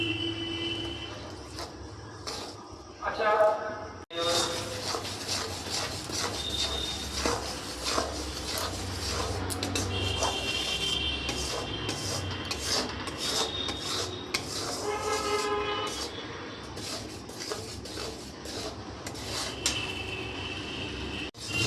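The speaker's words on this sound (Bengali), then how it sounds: "এই গুড়টাকে নাড়তে হবে অনবরত" Melting jaggery is stirred continuously in a cooking pan for a sweet peanut snack, giving a steady, close scraping and rasping that runs throughout without talk.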